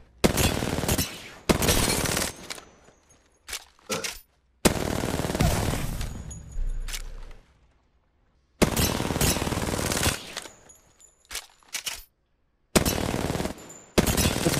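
An R9 gun fitted with a laser firing in a video game, loud rapid bursts of automatic fire, around six sprays of varying length separated by short silent gaps, with no talking.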